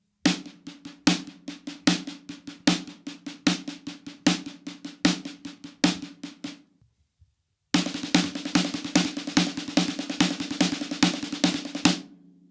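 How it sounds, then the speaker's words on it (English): A snare drum plays a paradiddle rudiment as a steady, rapid sticking pattern with regular accents, pauses briefly, then resumes the same quick pattern. Close and crisp, no voices. "So this is what a paradiddle sounds like."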